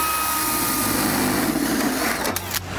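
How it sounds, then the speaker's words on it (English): A power drill turns a step drill bit while boring a 5/8-inch hole for a single-blade rectangular damper installation, giving a steady high whine that stays close and loud before cutting off near the end. "We're gonna be drilling out to 5/8 of an inch."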